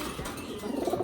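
Soft, low cooing from pigeons kept in a coop, a couple of murmuring calls close by against a faint background hiss, with no voices.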